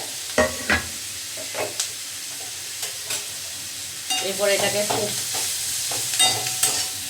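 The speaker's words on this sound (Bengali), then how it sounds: "এখানে আমি এখন দিয়ে দেব এই কাঁচা লঙ্কা আর পেঁয়াজ কুচোটা নুডলসের মধ্যে" Chopped green chilli and onion frying with Korean noodles in a pan, with sharp clattering stirs and scrapes over a continuous close sizzle, while a person speaks briefly.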